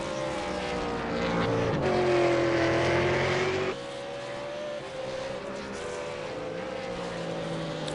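V8 race car on a flying lap at Oulton Park, its engine note rising and falling steadily through gear changes, dropping in pitch midway as it passes and pulls away.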